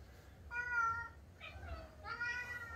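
A cat meows several times, drawn-out, clear calls close by over a quiet background with a low hum.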